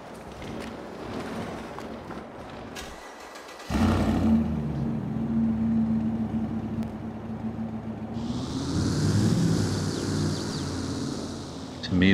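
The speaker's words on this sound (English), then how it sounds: "To me, this truck has a fantastic startup sound in idle" A truck in a farming video game starts up with an abrupt jump in loudness, then settles into a steady, deep rumbling idle, joined later by a hissing higher-pitched layer over the ongoing engine drone.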